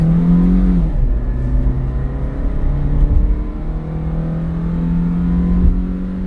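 A Maruti Jimny's engine accelerates hard during a 0 to 80 run, its drone rising in pitch, dropping at a gear change near one second, then climbing steadily again, loud and close from inside the car without talk.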